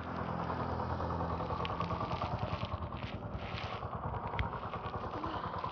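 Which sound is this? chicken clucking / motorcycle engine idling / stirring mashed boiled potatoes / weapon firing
motorcycle engine idling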